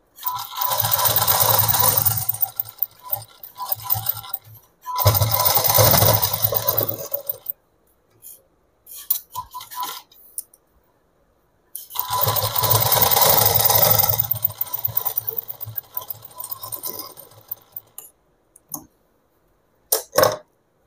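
A sewing machine stitches petticoat cotton fabric in several sustained bursts of whirring and rattling, each lasting a few seconds, with quiet pauses between runs.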